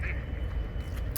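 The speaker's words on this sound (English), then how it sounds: "The ducks approve." Ducks quacking in Hagley Park, Christchurch, a few nearby calls over steady outdoor park ambience, fairly close and clear throughout.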